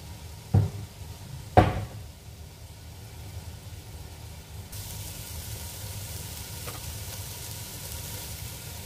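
A pan with a little oil gives two sharp knocks, then a soft, steady frying sizzle rises and holds at a moderate level.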